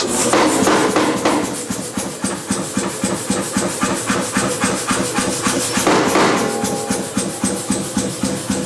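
A powered hammer machine runs as paper is fed through, pounding out a rapid, steady train of loud, regular strikes over a constant mechanical hiss, with no voices.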